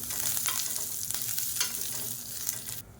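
Curry leaves fry in a hot pan with a crackling sizzle, broken by repeated scraping strokes of a spoon as they are stirred, before the sound cuts off abruptly near the end.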